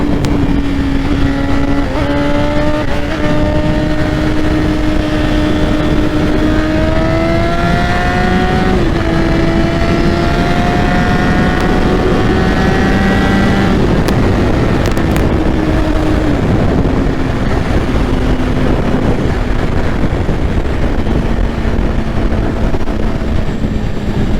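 A BMW S1000RR sport motorcycle engine roars up close, its pitch climbing through the gears and then easing, loud and continuous throughout.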